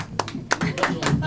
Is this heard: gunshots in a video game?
no